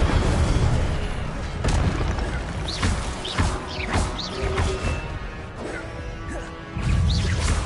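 Repeated Incendio fire spells cast in the Hogwarts video game, a series of sharp whooshing bursts and crackling impacts layered over busy combat effects, loud and close.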